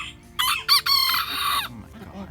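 A young, still-growing cockerel gives a short, strained, high crow-like call in a few broken bursts, heard up close, with soft low voices behind it.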